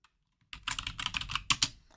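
Fingers type on a computer keyboard in a quiet room, a close burst of quick, uneven clicks and taps after a short silence, with a couple of louder keystrokes near the end.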